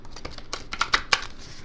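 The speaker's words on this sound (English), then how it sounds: "I'll give a little shuffle here" Tarot cards being shuffled by hand, giving a quick run of crisp riffling snaps and soft flutters at close range with no talk over them.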